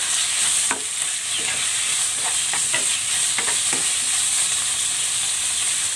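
Pork sizzles steadily in a pot with onion, a constant frying hiss with soft scraping strokes of stirring scattered through it, close and alone.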